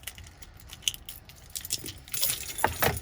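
Metal keys on a keyring jingle and clink in scattered bursts, near and crisp, growing busier toward the end alongside a Lever Gear BitVault tool clipped onto the ring.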